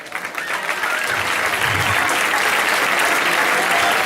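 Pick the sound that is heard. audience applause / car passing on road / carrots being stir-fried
audience applause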